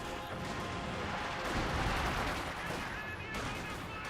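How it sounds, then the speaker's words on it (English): Artillery from a KV-2 heavy tank lays down a siege barrage in the strategy game Company of Heroes 2, heard as a dense, continuous wash of blasts and crashing impacts rolling steadily through the whole stretch without pause. "KV-2 is in fact deployed, firing some rounds over here."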